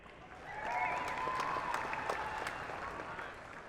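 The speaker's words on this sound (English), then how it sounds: "Big round of applause." A crowd at a celebrity softball game applauds steadily, dense clapping swelling quickly and holding for several seconds with faint cheers mixed in.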